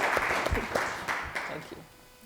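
Audience applause following a question at a post-performance panel discussion, a short burst of clapping mixed with crowd murmur that tapers off toward the end.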